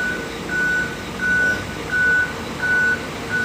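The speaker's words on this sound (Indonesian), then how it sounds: "Nih bisnya mundur." A Jetbus 3+ SHD single-glass bus sounds its reversing alarm while backing up: five evenly spaced, steady electronic beeps ring out over a low engine rumble, with no talking.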